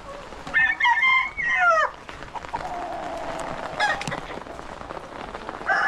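Backyard chickens crow loudly and cluck nearby, with a rooster's call ringing out, then a quieter stretch of cackling and clucking over an outdoor rural background.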